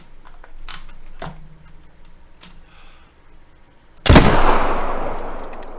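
A single sharp, loud muzzleloader gunshot in theHunter: Call of the Wild cracks out after a few soft clicks, followed by a long fading rumble as the report decays.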